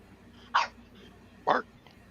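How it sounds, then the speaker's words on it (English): A dog gives two short, sharp barks about a second apart, close by and fairly loud against a quiet background. "What are you barking for?"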